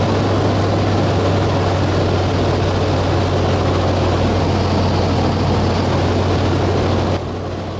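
The engine of a Fairchild 24W aircraft runs at reduced power, a loud steady drone with a low engine hum that fills the cockpit throughout.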